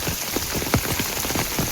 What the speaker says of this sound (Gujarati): મસ્ત વરસાદ આવી ગયો છે ફૂલ